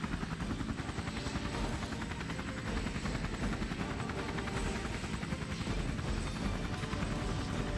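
A helicopter in the Marvel's Midnight Suns video game gives off a loud, steady rotor thrum with rapid chopping pulses that fills the whole stretch without a break.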